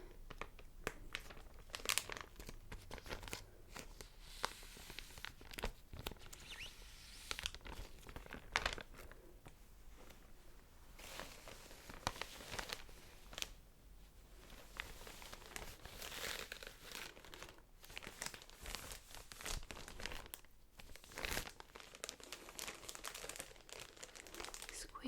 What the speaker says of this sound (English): Is it a Ziploc or just a resealable? Just a resealable bag.